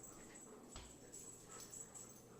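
Dogs bark and whimper faintly indoors, giving one sharper yelp among quieter yips over a low background hum.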